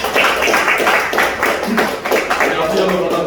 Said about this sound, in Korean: 오늘도 우리 찬양 받으시는 하나님께 박수를 영광 올리겠습니다.